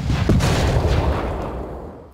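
Artillery barrage from a Napoleonic-era battle at Aspern in a Victory and Glory: Napoleon strategy video game, with dense rumbling booms fading over about two seconds, loud and alone without voices.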